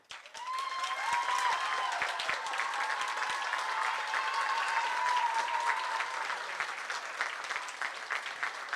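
A large audience at a JROTC military ball in St. Croix applauds. The clapping is sustained and even, swells quickly, holds steady for several seconds, and a faint voice carries above it.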